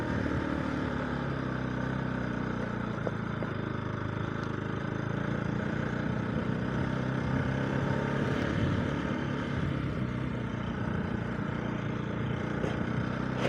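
Motorcycle ridden over a rough, potholed village road after many days off the bike, its engine a steady loud drone with a rumbling low end and constant jolting noise throughout.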